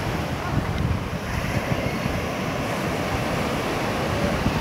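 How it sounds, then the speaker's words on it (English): Steady surf wash and gusting wind buffet the microphone on Miami Beach in Christ Church, Barbados, a continuous, fairly loud roar of breaking waves with no voices. "another view of Miami Beach"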